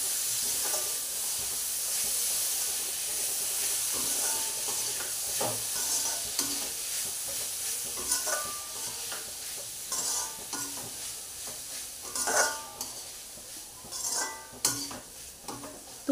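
Tomatoes, peas and mixed vegetables for tawa pulao get stirred on a hot pan, a soft frying sizzle under repeated scraping and clinking strokes of a spoon that grow sharper toward the end.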